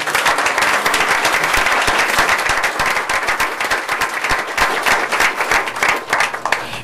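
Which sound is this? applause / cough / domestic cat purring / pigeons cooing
applause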